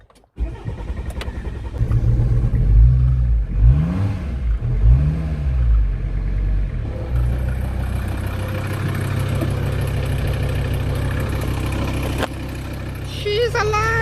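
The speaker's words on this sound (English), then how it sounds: "nice new shiny starter motor. So hopefully this bad boy starts now" A van engine fitted with a new starter motor cranks with a few rhythmic turns, catches, and settles into a loud, steady, close-up running rumble that lasts to the end.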